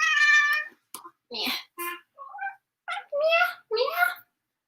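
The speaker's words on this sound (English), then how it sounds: "This is a kitty cat who wants a lap." A cat meows repeatedly up close, a string of short chirpy mews and longer plaintive cries with brief gaps between them.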